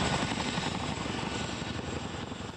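A CH-47 transport helicopter flies during a military exercise, its rotor thumping in a steady, dense drone with broad engine noise, loud and continuous.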